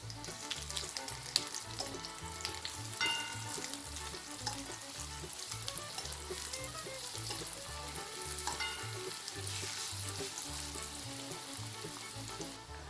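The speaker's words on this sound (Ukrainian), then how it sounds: "Смажу з обох боків до золотистої кірки." Loud, constant sizzling of carrot patties frying in hot oil, with occasional scraping and stirring sounds nearby; no one speaks.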